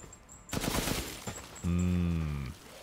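Gunfire in Resident Evil Village: a short burst of rapid shots around the first second, followed by a loud tonal hum, in a game scene with no talking.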